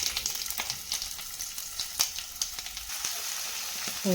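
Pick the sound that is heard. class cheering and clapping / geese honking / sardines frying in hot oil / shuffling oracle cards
sardines frying in hot oil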